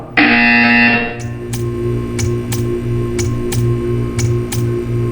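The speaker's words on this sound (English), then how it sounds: "When you hear the buzzer, stare at the art." A buzzer in the video game Portal 2 blares once, loud and harsh for about a second, then a steady rhythmic ticking pulse with sharp clicks continues alone.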